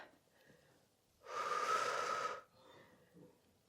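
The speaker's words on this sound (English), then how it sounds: "Inhale." A single deep inhale taken mid-exercise during an upper-body resistance band workout, a steady breathy rush lasting about a second, close and clear, with quiet room tone before and after.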